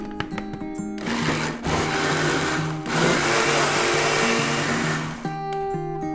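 Blender whirring for about four seconds as it purees pizza sauce from garlic, salt, pepper and basil, loud and steady, with short start and stop bursts around it.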